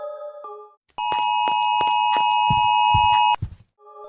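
An emergency alert alarm blares from a radio in a video game, a loud steady electronic tone lasting over two seconds with rhythmic pulses beneath it, between softer beeping tones before and after.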